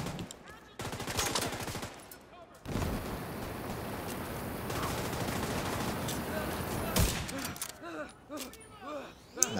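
Rifles fire in the shooter video game The Division 2 in loud, dense bursts and rapid volleys that run almost continuously, with voices mixed into the gunfire.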